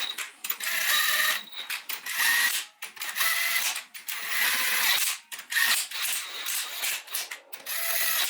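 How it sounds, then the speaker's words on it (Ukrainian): A hand ratchet clicks in quick, uneven bursts while snugging the crankshaft bolts on a Husqvarna OM 352A engine during rebuild, the close, dry metallic ratcheting broken by short pauses between strokes, with no talk. "Легенько притягую всі болти кріплення колінвала"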